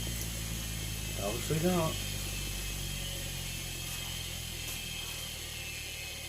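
A three-phase electric motor keeps running steadily with one phase disconnected, giving a continuous mechanical whine and hum throughout, while a voice speaks briefly near the start.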